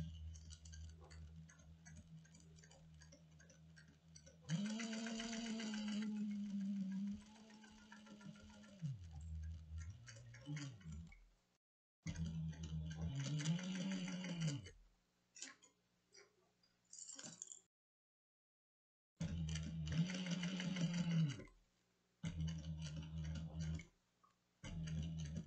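A sewing machine stitches a cross-body sling in several bursts of steady whirring, stopping and restarting with quiet pauses and faint ticking between runs.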